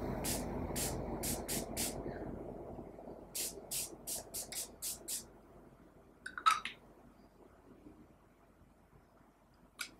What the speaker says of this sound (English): So now I'm going to spritz it all throughout my face.